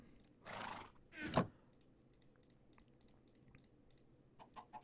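Two short horse snorts or neighs from the Minecraft modpack SevTech: Ages of the Sky, standing out clearly over quiet keyboard tapping and faint game ambience.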